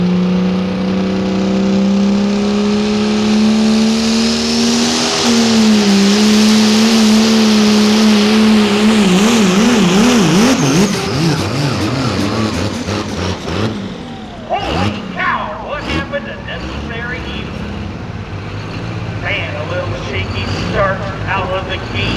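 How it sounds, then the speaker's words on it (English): A 1945 Dodge Power Wagon race truck engine roars loudly and close, revving with rising and falling pitch before pulling away into rougher, choppier engine noise, with voices talking over it. "Out of the gates for the Dodge Power Wagon."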